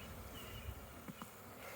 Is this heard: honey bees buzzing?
yes